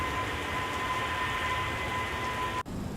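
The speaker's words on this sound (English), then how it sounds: "Yeah, I think those external engine sounds are pretty good." Steady roar and high whine of a Boeing 767-400ER's engines from outside, Mango Studios soundpack in X-Plane, continuous and loud with a brief dropout near the end.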